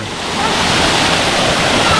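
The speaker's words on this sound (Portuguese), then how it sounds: "E aqui é uma cachoeira, ó, de água doce." A hot, steaming freshwater waterfall pours in a loud, continuous rushing roar, dense and unbroken from start to finish.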